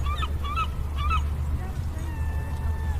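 Gull calls ring out at Pamet Harbor in Truro, Massachusetts, a few harsh cries in quick bursts near the start, then a thin high whine over steady low harbor rumble and wind.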